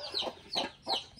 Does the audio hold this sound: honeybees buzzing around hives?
no